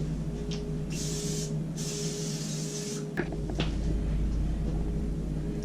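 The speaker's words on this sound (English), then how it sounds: "spray a little cooking oil in here" Two short hissing bursts of cooking oil spray sound close by over a steady low hum, followed by a few soft knocks and clicks.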